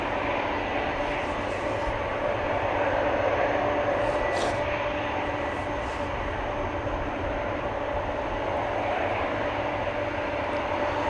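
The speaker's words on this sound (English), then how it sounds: "after this 767 has taken off" A Boeing 767 jet taking off at Amsterdam Schiphol Airport, its engines a steady, loud broadband roar with a sustained whine holding level throughout.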